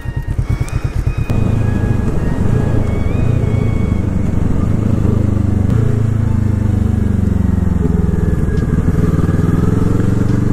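A Kawasaki motorcycle rolls along slowly, its engine a loud, close, steady rumble with a few brief shifts in pitch as the rider eases along under heavy skies.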